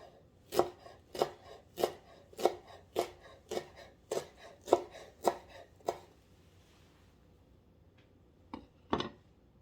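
A knife cuts food chiffonade-style on a board, making about ten crisp, evenly spaced chops close up, then a pause and one final chop.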